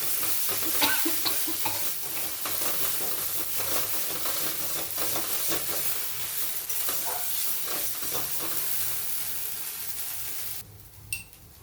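Ghetkol taro leaf bhorta is stirred in a kadai, with continuous close scraping and soft sizzling for about eleven seconds before the stirring stops near the end.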